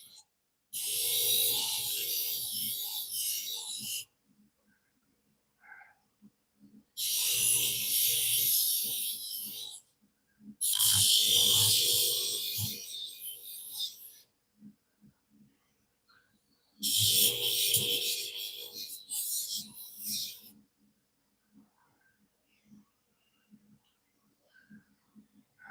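Hand sanding with a green high-grit abrasive, four bursts of close scratchy rasping strokes separated by quiet pauses.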